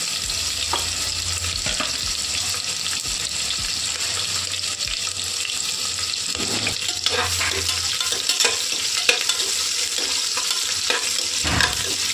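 Onion and green chillies frying with bay leaf and dried fenugreek leaves in a pan for vegetable white pulao, a continuous loud sizzle with intermittent stirring clatter and scrapes.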